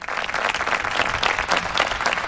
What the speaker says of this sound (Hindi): लोगों ने तालियों से उनकी सत्यता को सराहा।